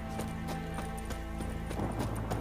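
Horse hooves clip-clop in The Witcher 3 on PS5, a steady trotting rhythm of soft repeated hoof strikes, fairly faint under a dense bed of game music and ambience.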